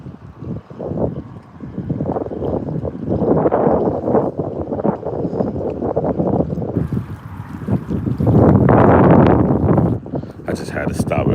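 Wind gusts buffet the microphone out on the water during a fishing trip, a continuous rough rumble that swells loudest near the end, with water and possible boat noise mixed in.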